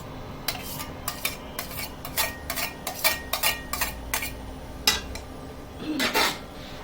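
Greens with crushed chili and garlic are stirred in a pot, with close metal clinks and scrapes arriving in irregular bursts and a louder rasping stir near the end. No one talks.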